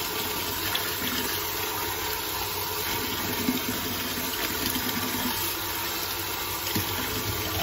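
Seafood being washed with water, a steady close rush and splash of running water that holds constant throughout with no talk.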